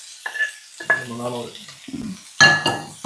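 Green apple pickle being stirred and tossed in a hot pan, with soft scraping and faint sizzling across a few seconds, close by, broken up by bursts of speech.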